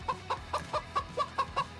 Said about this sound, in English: If you hear a lot of chickens in the background